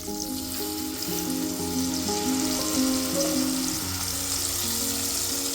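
Asafoetida and turmeric sizzle steadily in hot oil for kadhi, a constant close frying hiss with low tonal sounds running underneath throughout.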